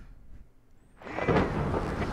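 Thunder from a lightning strike in the game Return of the Obra Dinn: a quiet lull, then a deep rolling rumble that swells and carries on with rain-like noise to the end.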